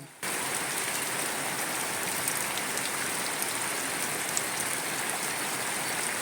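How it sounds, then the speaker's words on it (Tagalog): Steady rainfall patters evenly on surfaces at a farm, a constant hissing wash of drops with no voices. "bigla na namang umulan"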